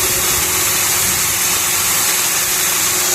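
The electric motor of a grain crusher runs steadily nearby, a continuous loud whirring drone with a constant hum and rattling, unchanged throughout.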